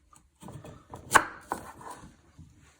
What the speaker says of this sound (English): Chop your ends off your sweet potato with your sharp knife